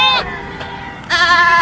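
Bleating from goats, a few strained calls in quick succession, the last one longer and louder, set against low background rumble.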